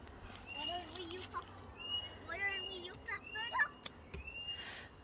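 Several birds call and chirp in the background over a busy outdoor soundscape with faint voices, short warbling notes repeating at irregular intervals.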